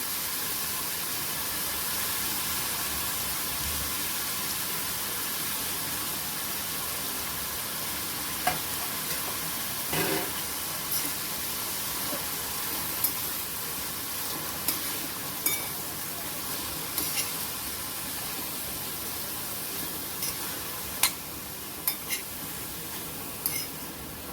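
Cabbage and mixed vegetables stir-frying in a hot pan for a paneer frankie filling, a steady close sizzle running throughout with occasional scraping stirs near the end, no voices.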